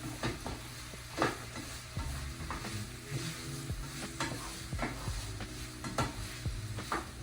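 Sausage fries in a pan at brunch, a soft continuous sizzle broken by repeated utensil scrapes and light clanks against the pan, heard faintly and without talk.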